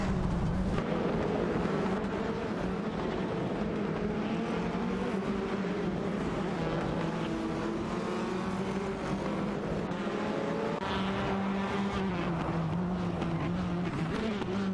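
Race cars, including a Seat Leon, screaming around a track in a simulated racing game, several engines howling continuously and loudly with rising and falling pitch as they contest positions.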